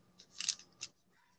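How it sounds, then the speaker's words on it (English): Two or three quick, crisp snips of small precision scissors cutting 0.006 Wildfire beading thread, close and fairly quiet, with a brief pause between cuts. "to cut the thread, I'm using these precision scissors"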